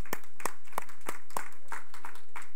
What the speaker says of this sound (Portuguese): Dá uma salva de palmas para esses irmãos amados